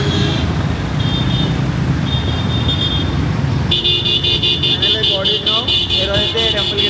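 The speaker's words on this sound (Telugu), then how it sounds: "ముందర కొంచెం చూస్తే ట్రాఫిక్ అయితే బాగానే ఉంది" Road traffic with motorcycles and car horns near the Peddamma Talli Temple in Jubilee Hills, a steady engine rumble broken by sustained horn blasts and repeated honking, with someone talking over it.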